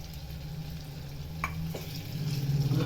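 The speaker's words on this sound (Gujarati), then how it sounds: "સાંતળતા જઈએ કટિંગ કરેલું લસણ એડ કરી દઈએ" Chopped garlic sautés in a pan for Kathiyawadi sev tamatar sabji, giving a continuous close sizzle with a few brief stirring scrapes and a slight swell toward the end.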